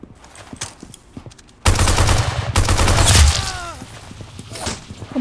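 Rapid, loud bursts of gunfire from the Roblox game Arsenal start abruptly and roll on as sustained automatic fire, after a few softer taps and shots at the start.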